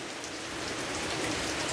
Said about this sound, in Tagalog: Bumuhos na kasi yung malakas na ulan.